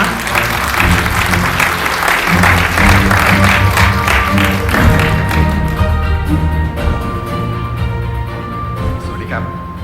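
Applause greets a speaker at a Thai government climate and environment event with the German ambassador, a steady dense clapping that fills the room for most of the ten seconds before thinning out.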